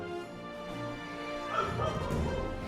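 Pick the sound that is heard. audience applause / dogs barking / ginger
dogs barking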